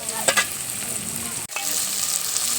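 Cumin, chopped onion and chillies fry in oil in a wok with a constant close sizzle, a couple of scraping stirs early on and a brief dip in the hiss midway.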